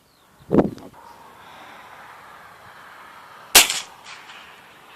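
Two sharp rifle shots ring out a few seconds apart at an outdoor shooting range, each a loud crack with a short echo, separated by quiet ambient background.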